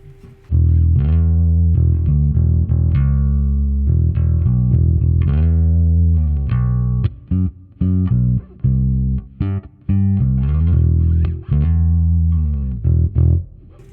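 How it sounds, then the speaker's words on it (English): Electric bass riffs played through an FM9 multi-effects processor with heavy effects, chorus and distortion, a run of punchy plucked notes with brief gaps, no talking. "Here's the sound of this bass with the FM9."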